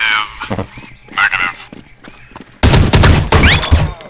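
Gunfire in the video game Counter-Strike Condition Zero, with loud sharp bursts and a dense volley in the second half, mixed with other game effects.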